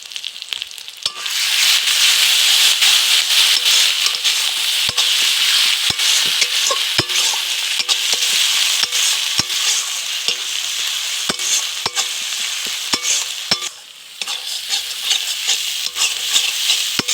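Spices with Kashmiri chili frying in oil for egg curry, a loud steady sizzle with repeated sharp clicks of a spoon stirring against the pan.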